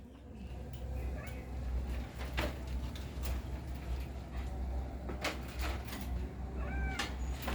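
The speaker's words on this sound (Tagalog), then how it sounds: "Sabi ni Rocky, stop na daw mag-away" Young cats about six months old meow and scuffle indoors, with a few short high cries and thumps over a steady low background hum, while people talk faintly.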